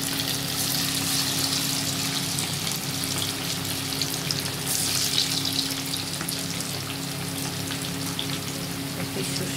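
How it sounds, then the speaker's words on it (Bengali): Marinated chicken pieces coated in cornflour and flour deep-frying in oil for chilli chicken, a steady loud sizzle and bubbling that continues evenly throughout, with no voices. "তা আমি এগুলো এখন ভেজে নিচ্ছি।"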